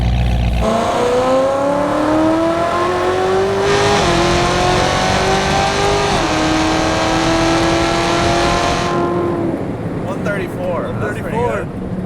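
A Hennessey-modified C7 Corvette ZR1 engine screams at high revs, climbing through gears as it passes, loud and sustained, with voices talking faintly underneath.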